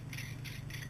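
A metal macro extension tube is unscrewed and removed from a camera lens, giving three brief close ratcheting clicks, faint and quick, with no voices.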